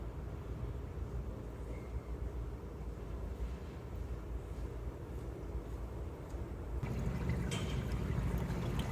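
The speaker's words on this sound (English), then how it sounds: "you don't want this oil to come over the funnel" A steady low liquid rush of engine oil glugging continuously through a funnel into a 2006-2015 Mercedes-Benz GL450, with a slightly louder, fuller pour toward the end.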